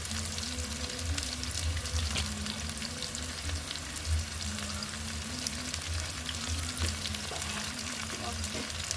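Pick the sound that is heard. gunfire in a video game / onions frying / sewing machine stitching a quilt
onions frying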